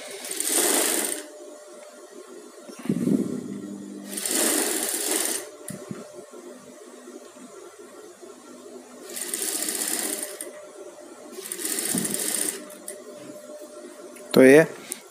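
A sewing machine stitches blouse fabric with its lining in several loud, close bursts of rapid whirring, separated by quieter pauses, with a voice talking in between.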